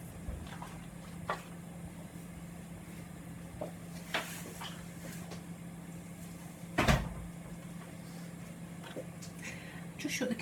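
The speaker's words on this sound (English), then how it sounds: "Just shut the kitchen door because I think the neighbour can hear me talking to myself." A kitchen door is shut in a home kitchen during cooking, a sharp thud near the middle standing out against low background hum, with a few fainter knocks and clatters around it.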